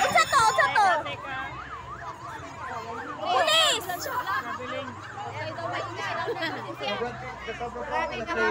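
Police siren wailing in rising and falling sweeps somewhere near a basketball sportfest game, heard over a crowd of cheering and chattering spectators and people talking throughout.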